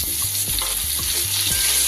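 Potatoes and a small chopped tomato sizzle and fry in a pan, with a steady loud crackle and several rhythmic stirring scrapes about every half second.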